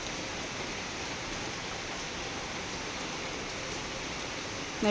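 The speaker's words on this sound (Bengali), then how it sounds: "বেশ কিছুদিন ধরে বৃষ্টি শুরু হয়েছে" Steady rain falls in an even hiss, soft and constant, with no voices.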